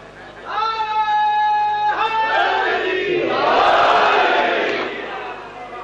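A large gathering at a Shia religious sermon by a cleric erupts in loud chanted slogans, voices rising together in tonal calls, then swelling into a roaring, overlapping crowd shout.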